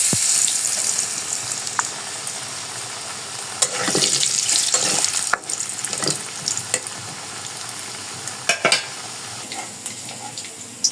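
Potatoes frying in a pan in a home kitchen, with crackling sizzle, scraping stirs and a few sharper clatters of the utensil against the pan, close and fairly loud, with no talking.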